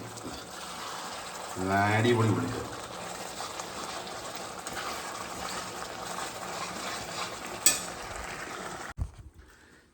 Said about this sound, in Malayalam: നമ്മുടെ ഉള്ളിക്കറിയൊക്കെ താണ്ട് ഇവിടെ തിളച്ചുകൊണ്ടിരിക്കുകയാണ്